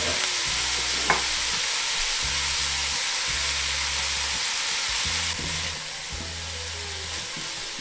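Root vegetables fry and sizzle in a hot pan while a utensil stirs them in repeated scraping strokes, the steady crackle continuing close and clear with no talking.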